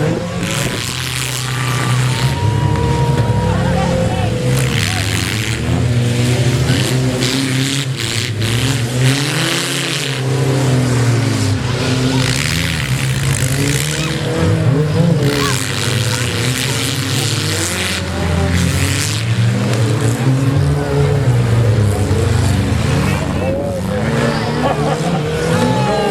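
Demolition derby cars at a Bismarck Jaycees Lincoln derby rev loudly and grind through gears, engines rising and falling continuously over a constant crowd and announcer din, with talk throughout.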